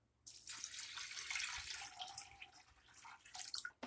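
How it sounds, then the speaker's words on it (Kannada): Water pours steadily into a cooking pot on a medium gas flame to make palak pappu, a lentil and spinach dish. It gives a close, splashy, gurgling stream for a few seconds before tapering off. "ಈಗ ನೀರು ಹಾಕ್ಕೊಳ್ಳಿ."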